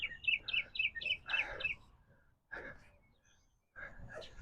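A small bird chirps in a quick run of repeated bright tweets, then gives a few more scattered calls after a pause, fairly close and faint, with breathy noises between.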